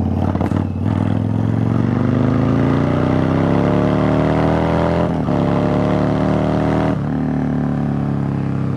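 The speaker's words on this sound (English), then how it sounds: "I just love the sound of some of these older metric V-twins." An older metric V-twin engine on a Yamaha Virago motorcycle runs loud and close for the whole stretch, a steady throaty drone whose pitch climbs as it revs, with brief dips around five and seven seconds as the throttle eases.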